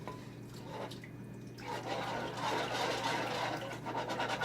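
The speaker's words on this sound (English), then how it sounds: "I'm going to add the rest of this milk in here as well." Milk is poured into a pot of potato, shrimp and bacon chowder, a soft continuous liquid splash and trickle that swells after the first second and carries on steadily, close by.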